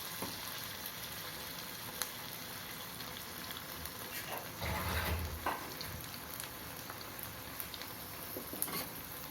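Paneer 65 pieces fry in hot oil over a low flame, a steady soft sizzle and crackle with small pops, swelling briefly midway, close and continuous, with no talk.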